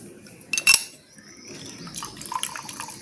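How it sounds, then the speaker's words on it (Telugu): Cut lemon pieces are squeezed by hand for juice: a sharp clink of a utensil comes first, then wet squelching and dripping liquid that is fairly close and quiet. "జ్యూస్ పిండుకోవాలండి."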